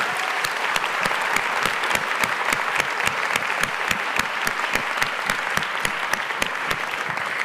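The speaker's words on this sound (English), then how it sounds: "I just want to thank our panelists and our actors one more time with a huge round of applause" Large audience in Gaston Hall applauding panelists and actors after a theatre-and-discussion event, a full, steady wash of clapping with crisp individual claps ringing through, continuing evenly from start to finish.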